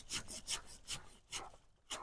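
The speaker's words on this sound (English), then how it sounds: "this is called a silky saw. And silky saws are very good for cutting, very, very sharp" A sharp Silky hand saw rasps through a hardwood bonsai cutting in quick, close back-and-forth strokes, about six short scraping pulls in two seconds.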